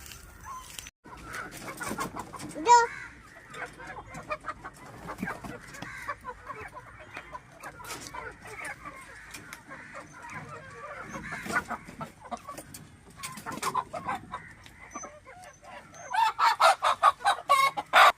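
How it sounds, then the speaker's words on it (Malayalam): Native hens cluck continuously while a rooster crows several times, nearby and fairly loud, with a burst of repeated calls near the end. "ഇന്ന് ഞാൻ നിങ്ങളെ പരിചയപ്പെടുത്താൻ പോകുന്ന എൻ്റെ കയ്യിലുള്ള നാടൻ കോഴികളെയാണ്"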